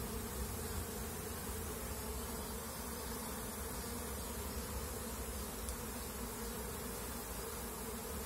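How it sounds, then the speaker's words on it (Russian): Honey bees buzz steadily at a hive with extra frame boxes stacked on top, a dense, continuous drone of many insects close by, holding at an even level with no voices. "И вот так наши пчелки работают."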